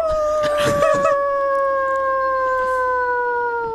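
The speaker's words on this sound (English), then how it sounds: "howls." A single wolf howls loud and close in a night scene during a Call of Cthulhu tabletop game, one long, steady, slowly falling tone that fills the moment, with a brief rough noise layered near the start.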